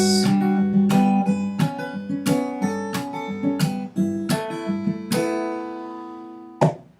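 Guitar chords ring out one after another, each strummed crisply and left to sustain, ending on a final chord that fades out; no talking.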